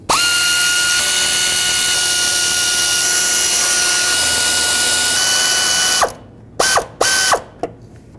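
A power tool whirs steadily and loudly while it backs out 10 mm backing plate bolts on a 1999-2003 Toyota Solara engine. The run is long and unbroken, then a few short bursts follow and the clip ends.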